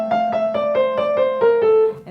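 Piano passage for a grade 3 student piece played with stiff wrists: about nine evenly spaced, detached notes stepping gradually downward, each sounding clipped and separate, close and fairly loud with no voices.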